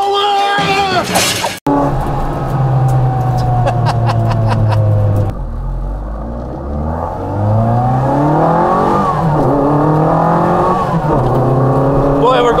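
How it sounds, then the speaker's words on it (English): A turbocharged classic Mini accelerates hard through the gears. The engine is loud and close, with revs climbing in repeated sweeps, a sudden break at a gear change, then a lower pull that builds again. "Through the gears fast. It does get up to speed in a hurry."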